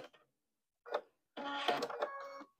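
Sewing machine stitching a quilt seam: a brief mechanical whir, then a steadier run of about a second with a buzzing motor tone, set against silence.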